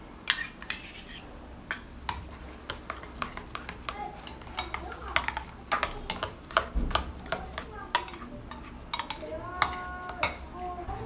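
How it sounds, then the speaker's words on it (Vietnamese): Rice water and potato extract are stirred together in a bowl, a utensil clinking and scraping against it in quiet, irregular taps under a soft voice. "Chúng ta đổ trộn đều lên."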